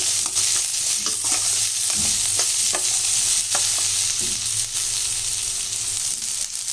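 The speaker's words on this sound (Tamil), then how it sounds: "இதை நல்லா வதக்கிக்கலாம் இப்போ வந்து இதை நல்லா வதங்கணும்" Onions sauté in a pan for South Indian paruppu urundai kulambu, a loud, steady sizzle of frying broken by repeated scraping stirs of a spoon against the pan, with no talking.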